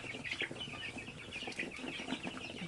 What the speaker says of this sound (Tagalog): dito na naman ako sa ating mga sisiw